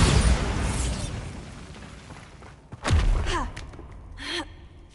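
A Bombarda blasting spell goes off in Hogwarts Legacy, a sudden booming burst followed by crumbling debris and a fading rumble, with a few magical whooshes and chimes after it.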